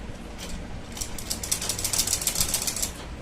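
A sewing machine stitching kurti fabric, a fast steady mechanical chatter of needle strokes that runs continuously and grows slightly louder midway, close and alone with no talking.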